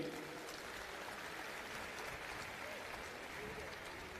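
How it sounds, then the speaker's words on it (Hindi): A faint, steady wash of audience clapping fills a Delhi government event hall during a welcome ceremony, continuous and distant without distinct individual claps. "आपकी तरफ से तालियां होनी चाहिए इस स्वागत के लिए"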